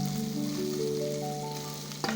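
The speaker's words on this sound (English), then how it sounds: "then you let it fry till golden brown together with the onions and the meat also" Garlic, ginger, onions and beef frying together in a pan for a beef stew, a steady close sizzle that holds evenly throughout with a faint clink near the end.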